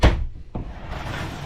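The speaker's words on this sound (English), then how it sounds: "I've got a sliding door again" A sliding door in an adapted caravan bedroom gives one short dull knock as it moves, then a softer rumbling slide that fades into quiet room noise, close and fairly loud.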